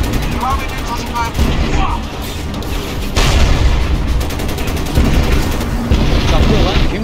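Gunfire in the video game Crysis, rapid bursts and heavy booms filling the whole stretch, loud and close, with a player's voice talking over the shooting.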